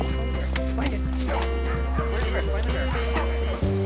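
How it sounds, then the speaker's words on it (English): Karelian bear dogs bark repeatedly in short yips while chasing off a bear, heard under a steady loud musical bed, with a voice speaking over them. "Rubber bullets and Tuffy's posse of Karelian bear dogs scare the bear far, far away."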